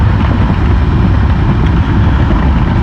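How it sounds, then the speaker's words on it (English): Heavy diesel dump trucks rumble steadily past at a road paving site in Cass, West Virginia, a loud, continuous low engine drone with no break and no voices. "they're paving out here, which explains the endless supply of dump trucks"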